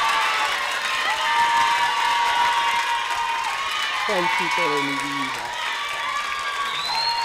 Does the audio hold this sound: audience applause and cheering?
yes